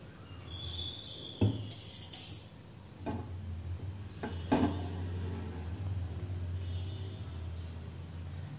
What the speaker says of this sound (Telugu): ఫస్ట్ స్టవ్ మీద ఇలా బాండి పెట్టుకోవాలి. బాండి పెట్టుకుని అందులో 4 టేబుల్ స్పూన్ల ఆయిల్ వేసుకోవాలి.